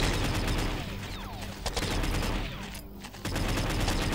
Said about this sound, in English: We can send some rockets out at them.